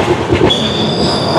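The NJP to Howrah Shatabdi Express, heard from inside its Vistadome coach, rumbles steadily along the track, with a sustained high metallic wheel squeal joining partway through.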